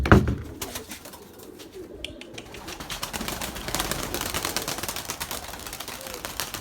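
Pigeons coo softly amid a busy rustling and tapping background, with a sharp knock at the start and no clear speech.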